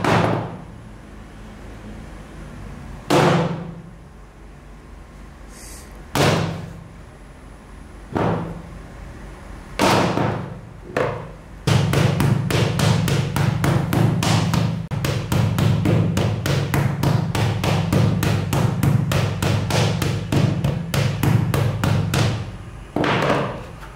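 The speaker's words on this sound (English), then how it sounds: "I also incorporate a hammer dropping test on it." Hammer dropped repeatedly from a few inches onto a Xiaomi Redmi Note 7 phone: sharp, separate impacts spaced over the first twelve seconds, then a rapid, dense run of close knocks and clatter to the end.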